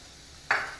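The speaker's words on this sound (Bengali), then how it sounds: "এরপর সর্ষের তেলের মধ্যে আমি পেঁয়াজ রসুনটা দিলাম" Onion and garlic dropped into hot mustard oil in a wok, a sudden close hiss of frying that bursts in halfway and then settles into a fading sizzle.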